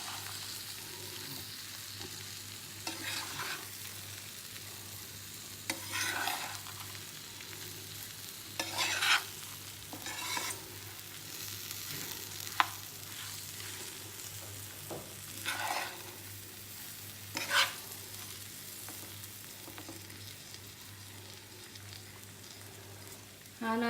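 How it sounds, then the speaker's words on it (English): Basmati rice grains fry in a pan with a soft, steady sizzle, while repeated stirring strokes scrape through it at a slow, regular pace, all close up and fairly quiet. "And I need to fry the rice grains till they are fragrant."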